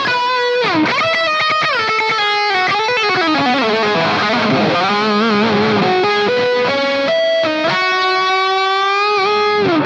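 Distorted electric guitar through a Marshall Guv'nor overdrive pedal with delay, playing a sustained lead line with echoing repeats trailing each note, loud and continuous.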